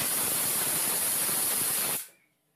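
A pressure cooker on a high gas flame vents steam while cooking hilsa fish head with taro greens, giving a loud, sustained hissing whistle for about two seconds before it cuts off abruptly.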